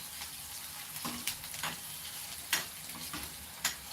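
An onion sautés in a pan on low heat for a farsan curry, sizzling steadily while a spoon stirs it, with several sharp scraping strokes standing out against the fry.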